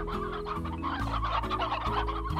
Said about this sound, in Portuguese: Galinha! Muita galinha.